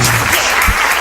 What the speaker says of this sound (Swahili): Mpigia mimi makofi.